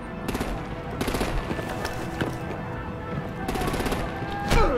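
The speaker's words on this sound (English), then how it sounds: "Break out the artillery and disable their vehicles!" Bursts of rapid artillery gunfire on convoy vehicles in a Batman video game, several rattling volleys with short gaps, loud and sustained.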